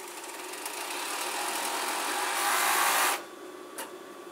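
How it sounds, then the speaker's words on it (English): A Singer 872 overlocker stitches cut fabric sheets placed face to face, a steady close mechanical whirr running for about three seconds before stopping, leaving a quieter hum. "So we've got here the 872 Singer overlocker"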